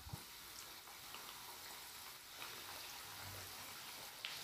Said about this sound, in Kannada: ಇದು ಮೀಡಿಯಂ ಫ್ಲೇಮಲ್ಲಿ ಚೆನ್ನಾಗಿ ಫ್ರೈ ಆಗಬೇಕು.